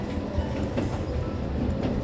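Train running on rails on the route to Machu Picchu, a steady low rumble with faint rhythmic clatter of wheels, heard from inside the carriage for a couple of seconds with no talk.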